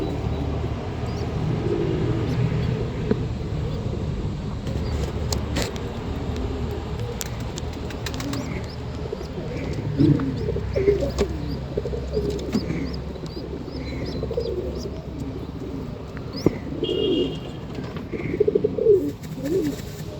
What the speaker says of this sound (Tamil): முஸ்கி புறாவுடைய சிக்கு இவங்க.